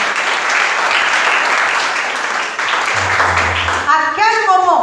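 A church congregation bursting into loud, sustained applause and clapping that fills the whole space, with a voice rising over the crowd near the end.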